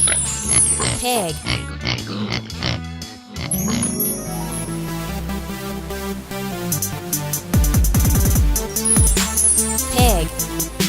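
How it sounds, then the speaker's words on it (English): Farm pig oinking and grunting in repeated bursts over music and a speaking voice. "Pig."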